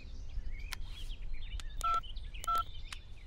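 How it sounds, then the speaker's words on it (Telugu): Telephone number being dialed, with several short separate keypad tones spaced irregularly over a quiet background with faint chirps. "ఫోన్ చేస్తాను."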